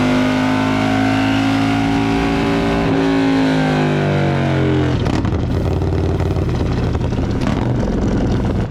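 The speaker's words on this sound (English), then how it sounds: "So here's the Sawicki exhaust, the catted exhaust." A Harley-Davidson motorcycle on a stage 1 setup with a Sawicki catted exhaust revs loudly and close by. Its steady, droning tone rises and swells, then drops into a rougher, choppier burble partway through.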